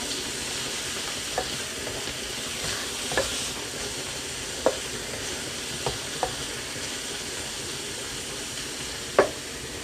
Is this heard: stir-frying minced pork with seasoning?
yes